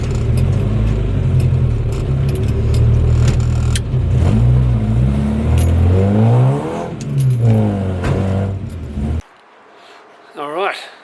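A supercharged Morris Minor engine runs with a rough idle, revving up and down in rising and falling pitch sweeps before cutting off, leaving near silence.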